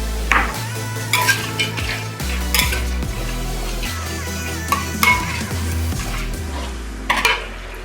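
Peanuts stir-fried in a pan, with repeated stirring scrapes, clinks of a utensil against the pan and a steady background sizzle, loud and close.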